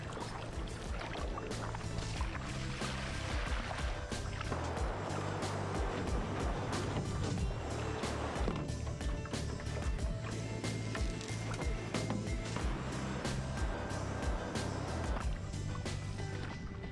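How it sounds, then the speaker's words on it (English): River rapids on the Alabama River heard from a kayak during the Alabama 650 race, a continuous rushing of water with sharp paddle splashes and sloshing knocks against the hull throughout, fairly close. "And I don't like the sound of rapids."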